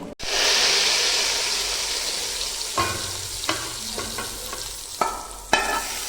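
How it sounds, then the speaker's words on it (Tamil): Tempering of coriander and curry leaves is tipped into hot chicken gravy, setting off a sudden loud sizzle that slowly dies down. Sharp spoon taps and stirring clicks follow near the end. "கொத்தமல்லி தலையும் கருவேப்பிலையும் தாளித்து இதில் கொட்டிட்டோம்னா கிரேவி ரெடி"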